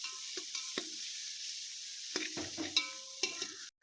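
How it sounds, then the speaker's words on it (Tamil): Onions with ginger garlic paste sauté in a pan for meal maker pulao, heard as a soft close sizzle under scattered stirring scrapes and clinks of a spoon against the pan. "அடுத்து நல்லா பட்டை கிராம்பெல்லாம் நல்லா வெந்தோடனே வெங்காயத்தை நல்லா வதக்கிக்கலாம்"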